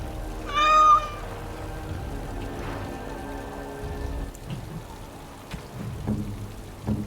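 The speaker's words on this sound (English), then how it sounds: "Oh, look at the cute little kitty." A single short cat meow sounds near the start of a fantasy video game scene, heard over a steady bed of falling rain with a few faint thuds afterward.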